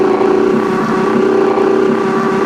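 Peugeot 306 Kit Car engine held on the rev limiter in the Richard Burns Rally game, tarmac setup, a loud, steady, buzzing high-rev drone with a constant pitch and no pauses.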